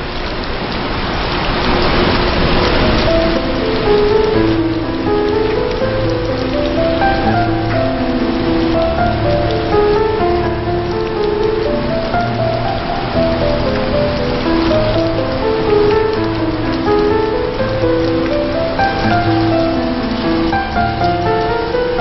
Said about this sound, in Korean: 갑자기 소나기가 오네요.